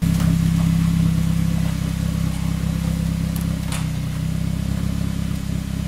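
A loud, raspy engine from a turbocharged Honda Civic running without a muffler idles with a deep, rumbling drone, steady throughout and close by, with no talking.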